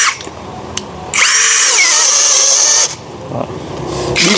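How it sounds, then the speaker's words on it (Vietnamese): A cordless drill bores into a piece of wood, its motor whining loudly and steadily for about two seconds before cutting off, with quieter handling noise before and after. "Thì khoan được, bắt vít được nhưng mà không hợp lý để bắn tôn."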